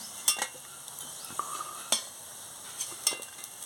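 Shrimp fritters sizzling in oil as they are lifted out, heard as a quiet low sizzle broken by several sharp clinks and scrapes of a utensil against the pan.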